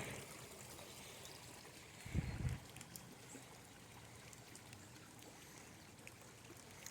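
Creek water trickles faintly through a drainage ditch during a flood warning, a soft, steady wash of flowing water with a brief low rumble partway through.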